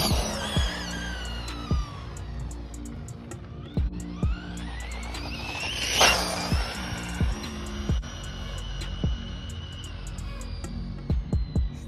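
A Losi LXT RC truck fitted with a $30 motor makes a speed run. A steady high-pitched electric whine climbs and falls through the run, with sharp clicks and knocks from the drivetrain and a louder surge near the middle.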